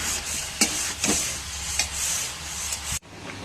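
Spices for a papaya and soybean curry stir-fried in oil, with a steady close sizzle broken by several short scraping stirs of a spatula in the pan, cutting off abruptly near the end.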